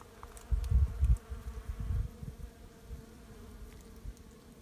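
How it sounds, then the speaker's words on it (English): Bees buzz in a flowering rosemary bush in a home garden, a close, uneven drone swelling loudest in the first second or two and then thinning to a fainter hum, with no voices. "lots of bees in our rosemary"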